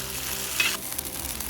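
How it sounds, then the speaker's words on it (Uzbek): Carrots fry in hot oil in a pot for plov, a steady close sizzle with brief stirring scrapes and bursts of crackle, with no voices. "Ketidan sabzini qovuramiz."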